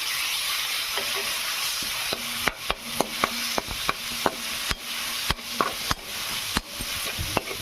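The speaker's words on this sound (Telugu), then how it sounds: "ఇప్పుడు ఇంకొండి ఒక కప్పు మామిడికాయ తురుము ఇది ఫ్రై చేసుకోవాలి ఇందులోనే" Grated raw mango frying in oil in a pan gives a steady sizzling hiss, with a run of sharp scraping and stirring clicks joining partway through, close and alone.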